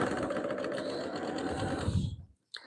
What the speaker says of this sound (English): now we're going to sew a good 1/4 inch all the way around